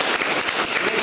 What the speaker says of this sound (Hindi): तो आज फिर से अपने लिए आप लोग ताली बजाइए।